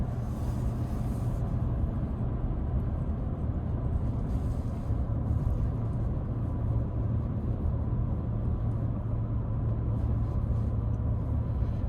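A 2026 Ford F-150 XLT with the 5.0 V8 cruises along curving roads, its cabin filled with a steady low engine and road rumble, continuous and even throughout with no voices.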